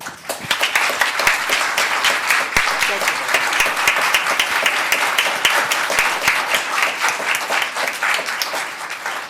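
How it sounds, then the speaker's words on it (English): Sustained, dense applause fills a town council chamber in Los Gatos as the room gives a standing ovation. Sharp individual claps stand out within the steady roar, and a voice talks faintly underneath. "we should speak with applause,"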